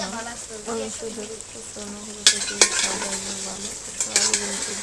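Potatoes are tipped into a cooking pot in a home kitchen, two sharp clattering drops followed by a rising sizzle, with a faint hum of background voices underneath.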